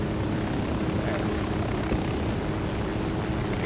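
Helicopter rotor and engine drone from Ghost Recon Wildlands, a steady loud chopping roar that fills the whole clip with talk faintly mixed in.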